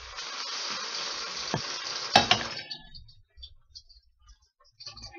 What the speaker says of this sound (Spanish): así vamos a ir capeando nuestros chayotes uno por uno